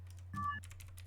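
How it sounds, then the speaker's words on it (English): Quick clicking of keys on a computer keyboard, a burst of typing with a brief electronic tone in the middle. "She's typing it out."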